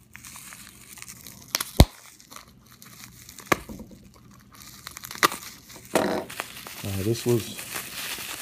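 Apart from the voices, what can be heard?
unwrapping taped package of silver coins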